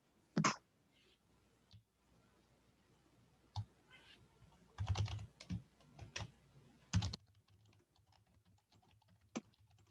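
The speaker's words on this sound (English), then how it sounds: "they're all busy typing" Sporadic bursts of keyboard typing and clicking, with quiet pauses between clusters of keystrokes; close and fairly soft, no talking.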